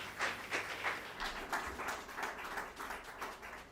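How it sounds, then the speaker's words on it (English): A small audience claps in applause, close and moderately loud, with separate claps audible in an uneven rhythm throughout. "Let's give a round of applause for him again."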